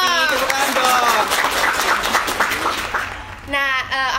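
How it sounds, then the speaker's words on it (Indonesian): Studio audience applause during an Indonesian health talk show, a dense wash of clapping that fills the clip, with a voice briefly rising over it near the end. "tepuk tangan dong"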